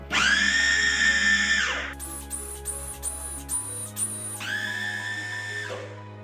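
A food processor motor whines loudly, pauses for a few quick pulsed bursts, then runs steadily again as it churns thick meatball dough with tapioca.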